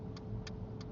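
A car's turn indicator clicks three times at an even pace, close and fairly quiet inside the cabin during a parallel parking lesson.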